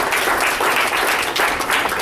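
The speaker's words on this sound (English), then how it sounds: "give them a big round of applause" Audience applause for the team that designs materials, dense and steady throughout at a meeting, a continuous wash of many hands clapping close by.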